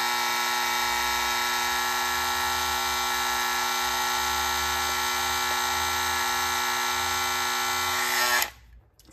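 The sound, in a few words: Andis electric shaver running and overheating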